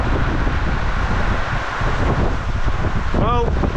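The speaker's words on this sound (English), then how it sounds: "It is windy." Strong wind gusts steadily through a storm with a heavy cloudburst, trees bending and straining, a continuous loud roar buffeting the microphone, with a brief whistling tone near the end.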